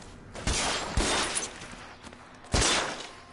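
Gunshots in LA Noire on PS4, three sharp, fairly distant cracks spaced across a few seconds with reverberant tails over faint background ambience.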